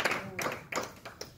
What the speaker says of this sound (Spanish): Bríndele esas palmas, bríndele esa adoración a nuestro Dios